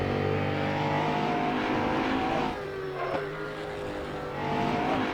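Koenigsegg One:1 hypercar in Assetto Corsa on the Nordschleife, its engine roaring loud and steady at very high speed, dipping briefly and then building again.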